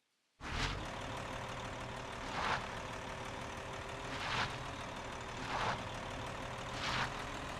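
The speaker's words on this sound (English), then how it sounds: "Gotta come out here with the tractor anyway." A tractor engine runs in the video game Eco, starting abruptly and then holding a steady, loud rumbling idle with a soft whooshing swell about every two seconds.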